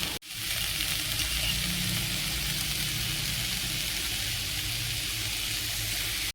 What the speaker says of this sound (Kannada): ಹಾಗೆ ಈರುಳ್ಳಿ ಕಲರ್ ಚೇಂಜ್ ಆಗೋ ತನಕ ಫ್ರೈ ಮಾಡ್ಕೋಬೇಕಾಗತ್ತೆ.